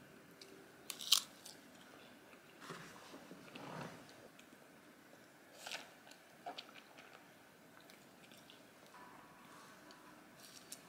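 Someone eating a pistachio cream gateau with ganache, soft, close chewing and a few faint biting sounds at a slow, uneven pace in a quiet room, no talking.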